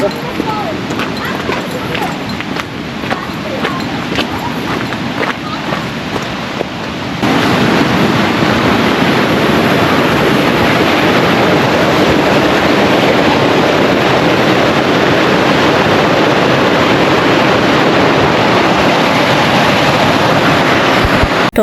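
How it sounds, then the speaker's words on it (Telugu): The continuous roar of Bridal Veil Falls in New Zealand, heard from a viewpoint in the forest: a loud, steady rushing wash that swells noticeably partway through and holds, with people talking over it. "కమాన్ వచ్చింది వాటర్ ఫాల్స్."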